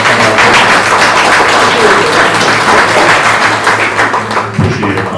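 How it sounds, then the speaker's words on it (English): Steady, dense applause from an audience at a scam prevention talk held at a senior healthy-aging center, continuous and fairly loud throughout with a few sharper claps near the end. "How about a round of applause for Connor?"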